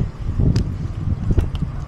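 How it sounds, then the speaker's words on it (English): Gusting wind buffets the microphone in low, uneven rumbles during a bicycle ride, with a few faint clicks and rattles cutting through. "Windy."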